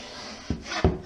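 Corner trowel scraping drywall compound along an inside wall corner, two short close scrapes over a soft steady hiss, the second stroke louder.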